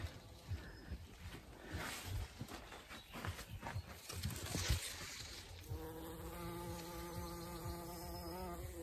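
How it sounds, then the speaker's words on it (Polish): A bumblebee buzzing inside a greenhouse among tomato plants, at first mixed with rustling and handling noise, then settling into a steady, faint, close drone for the last few seconds. "O, jeszcze trzmiela zobaczyłam. Zobaczcie. Trzmiela mam w szklarni."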